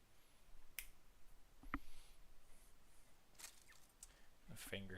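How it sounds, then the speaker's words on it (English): A finger snap in the fencing video game Hellish Quart, heard as a few sharp, brief clicks over a faint background with quiet voice-like sounds. "A finger snap never gets old."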